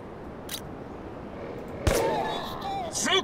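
A single sharp gunshot rings out in the video game Rogue Trooper: one loud, close burst over steady game background noise, followed by the ringing tail and more game sounds.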